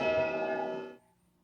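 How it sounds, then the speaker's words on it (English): A church bell tolls with a rich, ringing tone during a vote countdown in a game of Blood on the Clocktower, loud and sustained for about a second before cutting off to near silence. "You hear those bells?"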